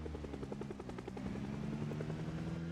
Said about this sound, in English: Once the helicopter had finally left us alone